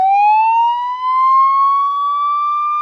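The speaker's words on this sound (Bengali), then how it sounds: "আর এদিকে আসছে ফায়ার সার্ভিস ফায়ার সার্ভিসে পো পো কইরা" A fire service vehicle's siren wails loud and close in the morning, one steady tone that slowly rises in pitch and plays alone without voices.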